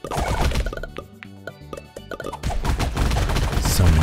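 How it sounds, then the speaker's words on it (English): Rapid bursts of explosive booms and popping blasts pile up over a few seconds, loud and dense, in the video game Rack and Slay. "So many explosions."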